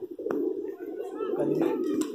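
High flyer pigeons kept in a loft cage coo in a low, continuous murmur, soft and close, with a couple of brief sharper sounds over the top.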